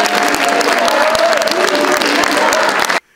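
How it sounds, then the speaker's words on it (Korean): Loud, dense applause from an audience at a political organization's launch ceremony, steady clapping with a few faint voices mixed in, stopping abruptly near the end. "우리 감사의 박수를"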